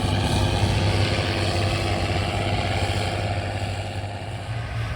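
A 170 horsepower Schlüter 1700 tractor with an intercooler runs at a steady rumble, its engine drone loud and unbroken throughout, with no voices over it.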